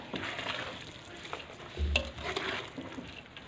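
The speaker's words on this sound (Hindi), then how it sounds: "अब इनको मिक्स कर लेते हैं इसमें अच्छी तरह से।" Chinese fried rice being stirred in a pan: soft, continuous scraping and shuffling over a light sizzle, with a sharper metallic clank of the utensil against the pan near the middle.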